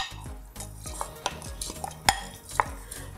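Soaked rice is stirred into a pot of boiling water for rice pudding, with a spoon scraping and knocking against the metal pot in a steady stirring rhythm, close and clear with no speech.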